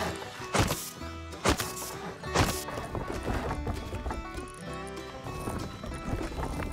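Clip-clopping horse hooves with a galloping rhythm, mixed into a busy, dense game soundscape with a few louder thuds.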